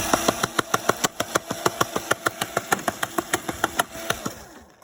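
A wheel on a machine makes a rapid, regular clicking, evenly spaced sharp ticks about eight per second over a mechanical hum, close and moderately loud, slowing slightly at the end.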